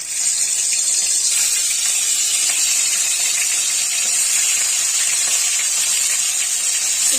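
Food frying in hot oil in a kadai for muri ghonto, giving a steady, loud, continuous sizzling hiss with no pauses and no talk.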